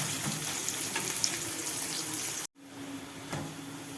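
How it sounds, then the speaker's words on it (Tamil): Large onions sizzle and hiss steadily in a hot pan on a stove, a close, constant frying crackle that cuts out abruptly for a moment and then resumes. "நல்ல கலர் வர்ற வரைக்கும் வதக்கணும்"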